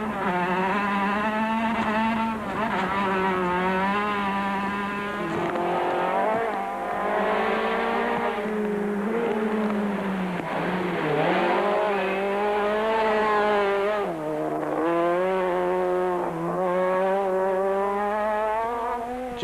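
A Volkswagen Polo rally car is driven hard on a muddy stage at the 2006 Cape Rally with failed front brakes, its engine loud and close, revving and wailing through repeated rises and drops over about twenty seconds.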